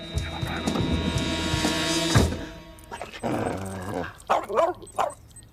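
A dog barks and yips several times, loud and close, with whimpering calls in an irregular rhythm after a stretch of music and film sound.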